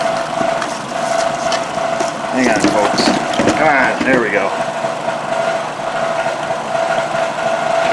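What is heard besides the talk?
Toyota Highlander engine idling with rattling exhaust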